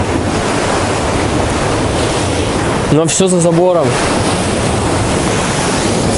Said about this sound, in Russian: Волны бьют неплохо, прям до сюда.